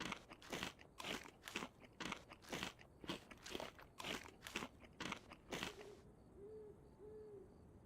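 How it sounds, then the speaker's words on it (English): Crisps being eaten in the video game DayZ: about a dozen loud, evenly spaced crunchy bites, then quiet with a faint low hoot. "Let's eat these crisps as well."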